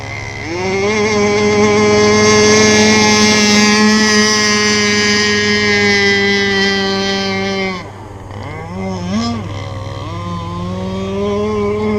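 A radio-controlled gas boat engine drones loudly at steady high revs for several seconds, then drops briefly and climbs again through a couple of quick throttle blips, close by with no voices.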